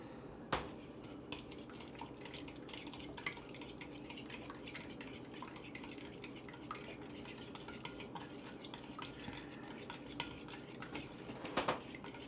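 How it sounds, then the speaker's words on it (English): Ingredients mixed in a bowl for a cast iron skillet recipe, a utensil clinking and scraping steadily against the dish, faint and continuous with occasional louder taps. "And mix everything up."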